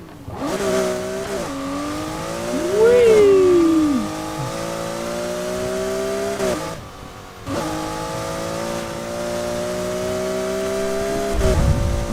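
A Porsche engine in the Need for Speed Heat racing video game revs up and down, its tone rising and falling through gear changes, then drops out briefly before droning steadily again.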